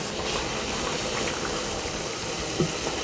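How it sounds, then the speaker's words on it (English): Broth boiling in a pot for a Mediterranean shrimp pilaf, a steady, even bubbling hiss with no talk and one brief clink near the end. "So this broth is boiling."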